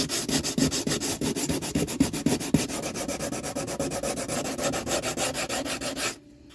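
Close power sanding strips paint from a boat hull surface, making a loud, steady abrasive rasp with fast regular pulsing and a few heavier scrapes before it stops abruptly near the end.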